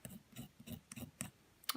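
Small scissors blade scraping dry pastel on paper in quick, soft, rhythmic strokes, about six close rasps, faint and near.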